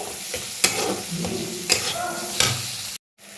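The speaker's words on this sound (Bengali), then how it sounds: "মশলাটা একটু কষাবো" Ghugni masala spices fried and stirred in a hot pan, a steady sizzle with a few sharp scraping strokes of the spoon, close and fairly loud, ending abruptly in a brief silence.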